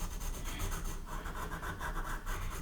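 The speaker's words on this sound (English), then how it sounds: "I'm just going to shade this in a little bit here." A pencil shades a ginkgo leaf drawing on paper, giving a steady, close, soft scratchy rubbing that continues without a break.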